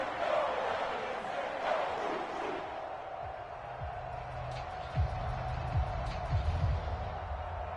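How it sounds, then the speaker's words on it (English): Steady stadium crowd noise from a PS4 football video game fills the whole stretch as a broad, even roar, with a few brief louder swells and low thuds underneath. "Crowd getting in it a bit already."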